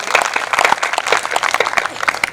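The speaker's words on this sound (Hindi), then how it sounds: "एक बार जोरदार तालियां बजाइए" An audience at an all-night Hindi-Urdu poetry gathering bursts into loud, brisk applause, with sharp, overlapping claps crowding together and faint voices here and there.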